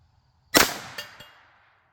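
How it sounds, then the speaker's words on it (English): A single sharp crack from a .22 WMR rifle fired during a chronograph velocity test, loud and close, with a quick echo and a faint metallic clink as the report decays. "And our second shot."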